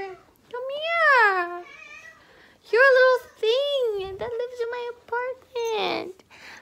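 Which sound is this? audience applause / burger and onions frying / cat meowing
cat meowing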